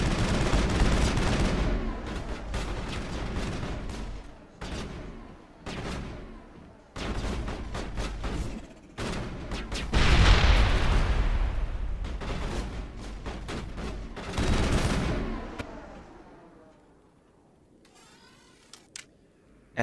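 Gunfire in the Mass Effect video game: loud rapid bursts of automatic shots, broken by short pauses, building to a heavy volley before fading into quieter tail noise near the end.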